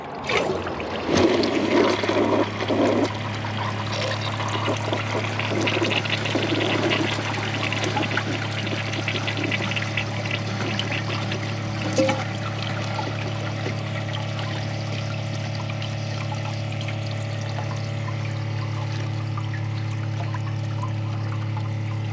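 A Kohler Wellworth elongated toilet flushing a garbage bag: water rushes and pours steadily at moderate volume for about twenty seconds over a low, constant hum, with no voices.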